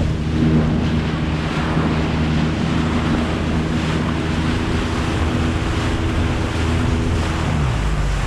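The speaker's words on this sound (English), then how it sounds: "But this is a nice long beach." Waves wash along a long, narrow sandy beach at Long Point in a loud, continuous roar, blended with wind buffeting the microphone. A steady low hum runs underneath, and no one speaks.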